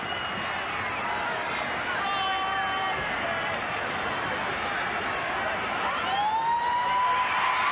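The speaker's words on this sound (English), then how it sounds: "And there's the siren." Full-time siren at a 1986 Parramatta versus Manly rugby league match, a long rising wail over the roar of a large stadium crowd, with the siren tone growing louder near the end.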